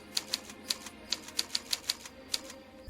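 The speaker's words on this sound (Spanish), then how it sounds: "Cuando el grillo escribe la carta, lo hace con un efecto de sonido similar al de una máquina de escribir." A typewriter-like effect plays as Cri-Kee the cricket writes a letter in the 1998 animated film Mulan: about a dozen crisp, evenly spaced key clacks tap out in a quick rhythm against a quiet background.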